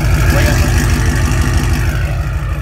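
A 2017 Ford Mustang with a 5.0 V8, just repaired, idles in drive with the e-brake set, a loud, close, throbbing engine rumble with an even lumpy pulse and a slight revving swell at the start.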